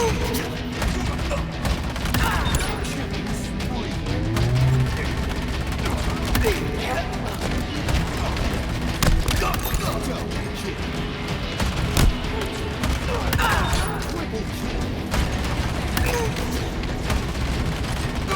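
Rapid automatic fire from the MA5K Avenger rifle in Halo Infinite, a steady dense stream of gunshots running throughout with occasional heavier bursts, set against busy in-game combat noise.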